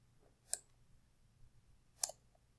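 A computer mouse clicks twice, sharp and quiet, about one and a half seconds apart, against near silence.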